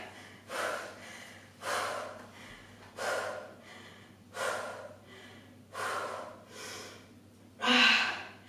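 Rhythmic breathing during an exercise, about seven slow audible breaths roughly a second apart, close and breathy with the last exhale strongest, no speech.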